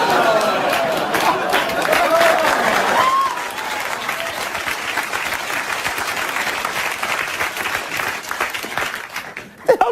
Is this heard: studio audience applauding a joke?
yes